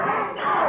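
Wrestling arena crowd at a 1982 Memphis match roaring and yelling in a loud, steady wash of voices with no clear speech.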